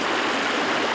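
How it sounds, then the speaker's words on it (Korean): Stream water flows through Andeok Valley, a forested gorge fed by water from Hallasan, as a steady, even hiss and rush that fills the whole moment without a break. "안덕계곡에 지금 흐르는 물소리"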